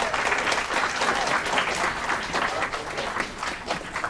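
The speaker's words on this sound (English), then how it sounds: "Let's give another round of applause." A city council chamber audience applauds during a Pride Month recognition in Aurora, a thick, steady roll of clapping with slight swells, close and continuous for the whole stretch.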